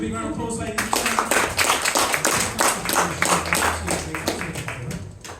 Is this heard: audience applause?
yes